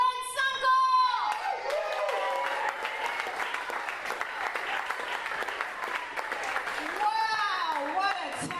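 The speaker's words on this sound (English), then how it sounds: "Let's get clapping right now. Get loud for Gwen Sunkel!" A comedy festival audience breaks into loud, sustained clapping with some cheering for a comedian taking the stage, while a voice talks over the opening and closing moments.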